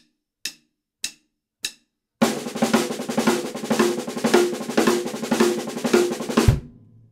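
Three clicked count-in beats lead into a fast sextuplet drum chop with accents and ghost notes, a dense rapid roll of strokes with periodic accents, ending on a low thump, close and without talk.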